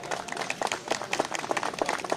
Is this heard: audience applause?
yes